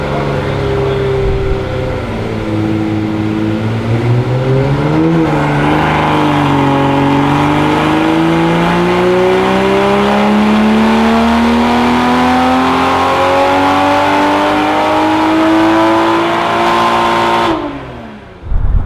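A 2020 Toyota Supra with a catless downpipe and Stage 2 tune revs up steadily on a dyno, its engine pitch climbing through a long pull before abruptly cutting off near the end, loud and close with no talking.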